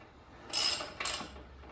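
Two quick ratcheting bursts, close and moderately loud, from a tool tightening a bolt on the front wheel of a 2014 Yamaha Bolt 950cc during a tire change; the clicks are separated by a brief pause, with no talking.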